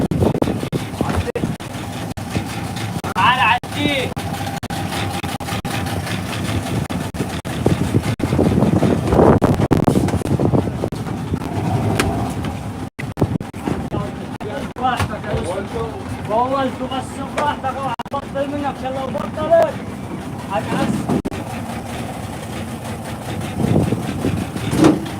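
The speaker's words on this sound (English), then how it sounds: "We're just gonna switch motorboats." A motorboat engine idles and chugs on the Nile at Luxor, a steady low drone with wind buffeting the microphone, while several people talk over it throughout.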